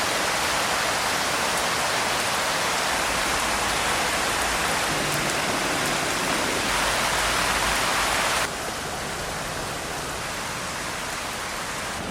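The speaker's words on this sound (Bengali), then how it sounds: "এবার যে ছোট মাছের টক হবে তার জন্য সর্ষে বাটতে হবে, সর্ষেটা বেটে নিচ্ছি।" Mustard seeds are ground into paste for a sour small-fish curry, a loud, continuous coarse rasp close by that drops slightly in level near the end.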